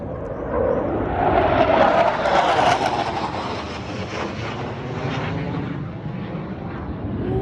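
F-15 military jet roaring overhead in North Florida, a loud broad rushing roar that builds, peaks around the middle and slowly fades away, heard alone.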